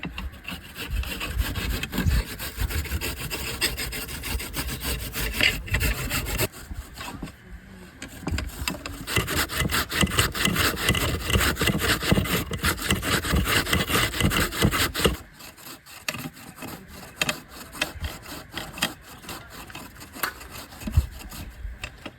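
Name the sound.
green banana being grated with a machine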